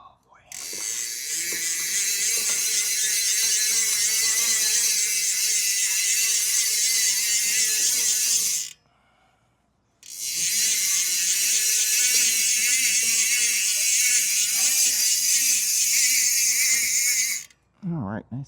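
A mountain bike chain being cleaned and dried, giving loud, steady whirring and ratcheting of a spinning chain and freewheel in two long runs with a brief pause between, with faint talk underneath.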